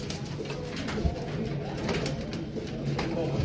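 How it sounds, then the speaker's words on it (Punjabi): Teddy pigeons cooing at a busy pigeon market in Lahore, a steady low murmur of coos with scattered bird sounds and faint background bustle, continuous throughout. "ਇਹ ਟੈਡੀ ਕਬੂਤਰ ਜੀ"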